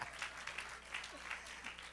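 A church congregation claps at a sermon, the sound faint and distant, with uneven bursts and a soft voice underneath.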